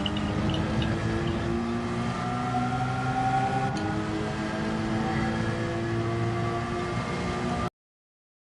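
Race car engine in Gran Turismo 7 drones with a steady, loud tone that shifts pitch slightly as the revs change, continuous and with no voices, before cutting off abruptly.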